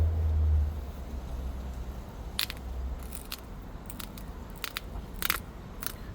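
Antler tip pressure-flaking a piece of obsidian, with wet antler gone soft in humidity: a few sharp crackling snaps and crunches spaced irregularly over a low background hum, close and fairly quiet.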